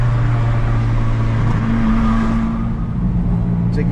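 A modified 2006 Toyota Corolla accelerates in third gear, a loud, steady engine drone with rising tone heard from close by, no talk over it.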